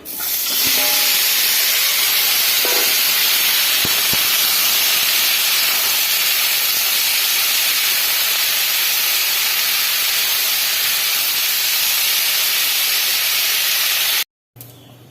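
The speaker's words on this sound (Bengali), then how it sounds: "ফুলকপিটাকে সামান্য ভেজে নেব হলুদ দিয়ে" Loud, steady sizzling hiss of cauliflower frying in hot oil with turmeric, continuous and close, cutting off abruptly near the end.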